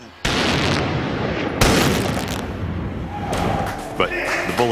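A .50 caliber rifle shot fired into a water-filled pool from 3 meters indoors, a sudden loud blast followed by a long roaring wash of spraying water and a second heavy burst, with voices near the end.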